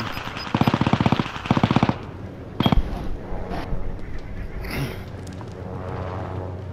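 Video game gunfire rattles out in two rapid automatic bursts close by, followed by a single sharp shot and a quieter stretch of distant battle noise.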